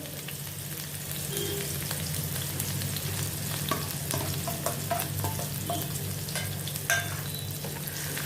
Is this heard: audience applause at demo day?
no